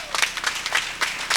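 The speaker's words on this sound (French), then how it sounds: "On va bien applaudir pour Madame la directrice, Dr Vilasco." An audience claps in a brief, scattered burst of applause with distinct separate hand claps, fairly faint and close.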